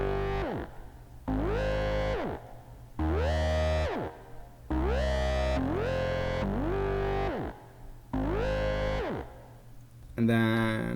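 A buzzy synth lead plays a sequence of notes, each sliding up and down in pitch, with short gaps between phrases and a brighter tone at the end.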